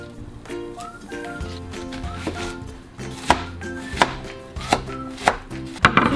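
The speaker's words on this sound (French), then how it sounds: "Donc je coupe l'oignon." An onion is chopped with a knife on a board, a steady run of crisp, close knife strikes under light background music with no talk.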